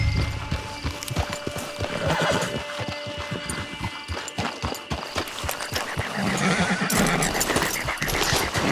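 Horse hooves clip-clop steadily with repeated whinnies and neighs in a Red Dead Redemption 2 multiplayer scene, loud and close against ambient game sound.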